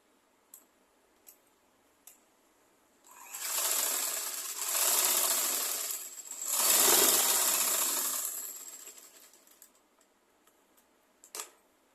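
Sewing machine stitching the edge of a skirt hem, two long continuous whirring runs in the middle of the clip, loud and close, with a few faint clicks before and after.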